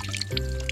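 Water splashing and pouring as a handmade cedar bark basket is scooped through it, a brief close slosh with dripping.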